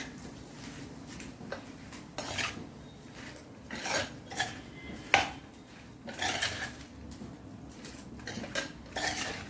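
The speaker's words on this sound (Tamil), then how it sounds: "தாளிப்பை போட்டாச்சு. இப்போ கிண்டி விடுவோம்." A spoon scrapes and clinks against a pan while stirring mango pachadi after the tempering is added, giving irregular close metallic taps and scrapes with no talking.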